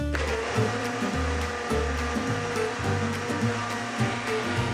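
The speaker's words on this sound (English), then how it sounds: "Again, I'm using a stick blender" A stick blender whirring through a vegan butter mixture, a loud continuous motor drone whose pitch keeps dipping and rising as it works, with no talking.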